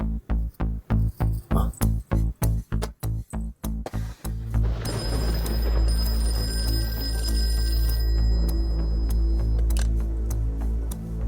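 A telephone rings in a rapid pulsing series of short bursts, then gives way to a steady electronic hum and tone for the rest.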